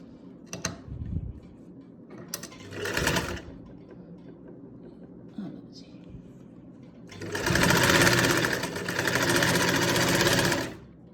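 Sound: sewing machine stitching garment fabric

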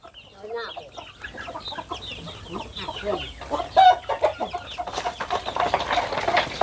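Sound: free-range chickens and hen with chicks clucking

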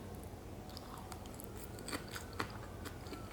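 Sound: chewing and biting a carrot

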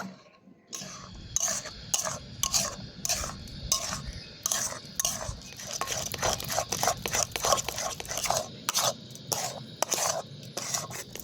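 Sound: stirring semolina dough in a pan over low heat

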